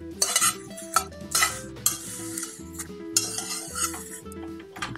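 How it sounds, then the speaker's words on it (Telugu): Curry leaves being dry-roasted in a pan over a low flame, a metal spatula scraping and clinking against the pan in repeated strokes over a light crackle, fairly close with no talking. "లో ఫ్లేమ్లో పెట్టేస్తే కరివేపాకు డ్రై అయ్యేంత వరకు వేయించాలి."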